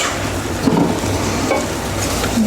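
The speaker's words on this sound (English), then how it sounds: "We just want to sweat the onions." Two grated medium onions sweat with a little salt in a pan for Greek gemista, giving a steady soft sizzle with faint stirring clicks, close and even throughout.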